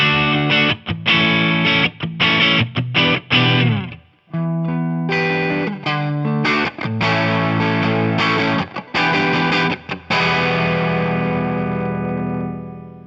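Vintage Icon V52MRBS electric guitar on its high-output bridge pickup with volume full up, driven through a distortion pedal and amp: loud, saturated chords and riffs played in choppy bursts, ending on a long sustained ringing chord.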